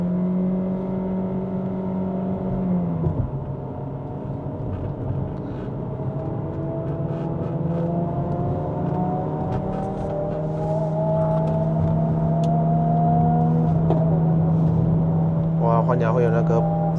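Proton eMas 7 PHEV plug-in hybrid driven in power mode on a climbing mountain road, its engine revving loudly and steadily with rising pitch through gear changes, continuous and close inside the cabin.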